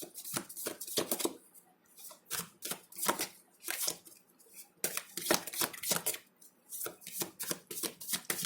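Tarot cards shuffled during a reading, a run of crisp riffling bursts and soft slaps in irregular clusters, close and fairly loud, with no talking.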